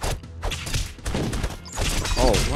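Bomb blast in the brawler game Castle Crashers, a loud crashing burst with thuds and clatter amid busy game sounds, while several players talk and shout over it.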